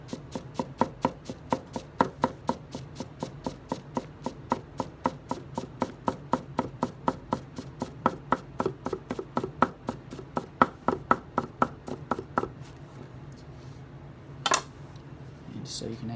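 A Makoto Kurosaki SG2 gyuto knife chopping quickly on a cutting board, light and rapid, a steady stream of crisp close taps roughly three or four per second for about twelve seconds before stopping, followed by one sharper knock.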